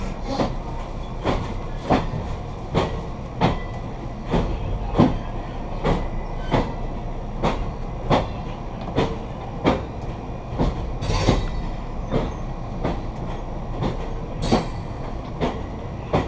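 Steady rhythmic clickety-clack of Amtrak train wheels passing over track joints on the Harrisburg Line near Downingtown, evenly spaced clacks repeating throughout over a low rumble.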